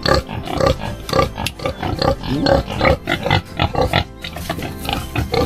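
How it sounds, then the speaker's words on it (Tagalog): Farm pigs lying asleep grunt loudly and repeatedly at close range in a rough, uneven rhythm, with no talking over the sound. "Tulog yung mga baboy natin alaga, oh."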